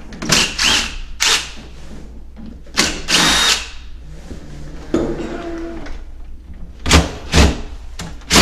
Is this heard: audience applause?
no